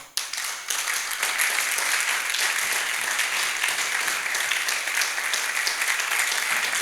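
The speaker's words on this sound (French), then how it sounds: "On acclame le Seigneur." A church congregation applauds and praises the Lord during a French-language service, with steady, dense clapping from many hands that fills the room and holds at full strength throughout.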